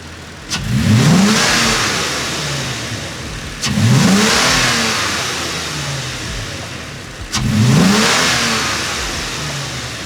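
Revving from a Gen 3 Toyota Tacoma engine fitted with a red cold air intake and air scoop, three loud separate throttle blips, each rising sharply and then trailing off, with no one talking.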